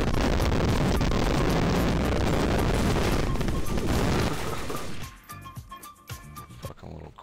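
Dense, sustained gunfire from auto sniper rifles in a Counter-Strike: Source match roars loudly for about five seconds, then drops to scattered single shots and softer game noise.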